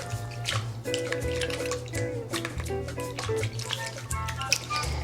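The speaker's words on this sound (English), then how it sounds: "now I'm going to go ahead and stir this to combine the sourdough, and the sourdough is floating" Floating sourdough starter stirred into water, light liquid sloshing and dripping with soft clinks of the utensil against the container, close and continuous over a low background hum.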